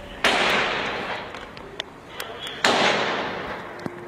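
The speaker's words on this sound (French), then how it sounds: "Il y a 4 détonations qui sont audibles. Ce sont des faibles détonations, probablement du 9 mm" Two sharp, faint bangs, each followed by a long decaying echo, from a small-calibre pistol, likely 9 mm, fired from inside toward an entrance door during a terrorist siege.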